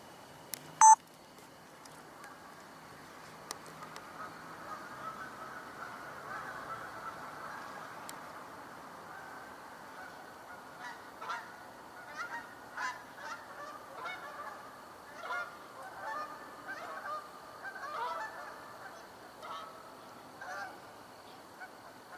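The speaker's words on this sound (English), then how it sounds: "I think I hear some geese coming in." Distant geese honking as they fly in toward an open wetland, with scattered calls that grow denser and louder in the latter half over a quiet outdoor background.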